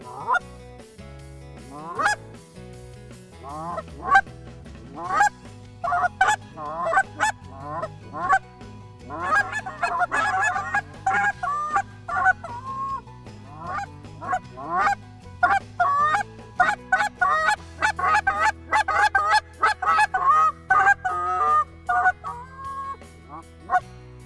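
Goose calls blown by a caller in a hunting style, a long run of loud, sharp honks and clucks in quick rhythmic bursts, close and clear with no talking.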